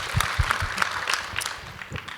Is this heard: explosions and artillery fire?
no